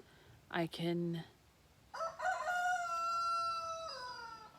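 A rooster crows loudly nearby: a short clucking call, a pause, then a long drawn-out crow.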